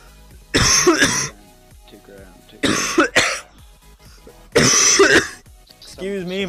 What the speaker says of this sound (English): it's normally you that's always coughing